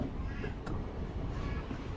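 A Kurnool to Guntur express train rolls slowly, giving a dense, low rumble of wheels and carriage noise that holds steady, heard from inside.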